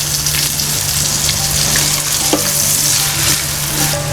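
Onions with salt sauteing for a Kerala-style chicken curry, a steady close crackling sizzle with faint stirring scrapes, continuous and fairly loud with no talking.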